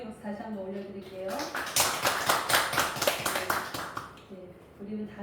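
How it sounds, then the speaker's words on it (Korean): A church congregation bursts into loud, sustained applause at a Sunday worship service for about three seconds, framed on both sides by a pastor speaking. "주님 앞으로 영광의 박수 다시 한번 올려드릴게요"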